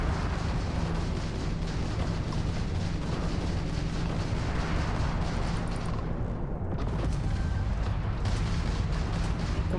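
Gunfire and explosions in the Starfield video game, a continuous dense rumble of booms and blasts, loud and unbroken with a brief lull near the end.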